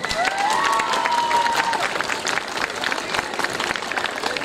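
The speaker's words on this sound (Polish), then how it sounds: "Wielkie brawa dla nich." Crowd applause at an outdoor summer community event in Pogórze, a steady wash of clapping heard throughout with some cheering, while a faint whistle-like tone slides through early on.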